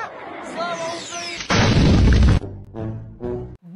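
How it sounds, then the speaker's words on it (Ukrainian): A loud added explosion effect in a war news clip: a sudden heavy boom with broadband rumble that holds for about a second, between stretches of talk and music. "Приклеїли вибух."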